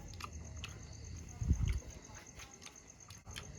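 Crunchy chewing of fried red ant eggs at a rural market food stall, a short burst of close, crisp mouth crunching standing out briefly amid faint background market noise.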